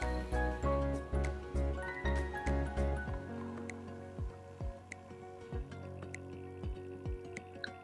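Yogurt is stirred and mixed for Bengali mishti doi, with repeated wet clinking strokes of a spoon against the bowl, rhythmic and close, slowing and thinning out toward the end; no voices are heard.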